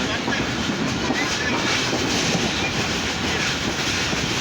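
A train rolls past close by in Sindh, a loud, steady rumble with rhythmic clickety-clack of wheels on rails that fills the whole stretch.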